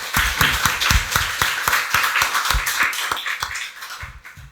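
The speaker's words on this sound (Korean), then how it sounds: "박수로 하나님께 영광 돌리겠습니다" Congregation clapping during a Sunday worship service at a Korean church, dense overlapping hand claps at a steady lively pace, fairly close and loud, tapering slightly toward the end.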